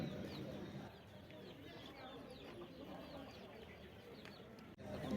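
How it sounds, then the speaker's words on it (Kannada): Native chickens at the 2024 Krishimela agricultural fair in Dharwad cluck and chatter repeatedly, fairly faint and mixed into a constant murmur of crowd noise and distant voices. "ಇಲ್ಲಿ ನಾಟಿ ಕೋಳಿಗಳಿದಾವೆ ನೋಡಿ"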